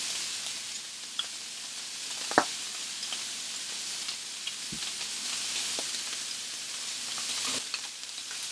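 Italian sausage sizzles in a frying pan with a steady, fairly quiet crackling hiss. A few faint knocks from stirring are heard, and no one speaks.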